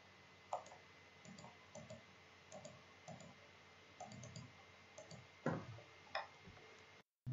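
Mouse buttons clicking on a computer while a Java program with an action listener runs, a string of faint, sharp single clicks spaced irregularly over a quiet background, with no talk.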